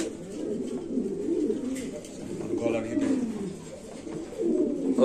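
Red Lahori fancy pigeons coo steadily at a pigeon farm, several birds close by with overlapping low throaty calls, while faint human voices murmur in the background.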